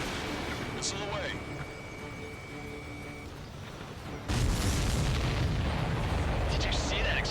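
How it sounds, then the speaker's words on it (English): A huge explosion as an enemy supply ship is destroyed in the Ace Combat 7 flight game, a sudden loud roaring blast breaking in after a stretch of engine drone and tones, then rumbling on. Radio voices talk over parts. "Did you see that explosion?"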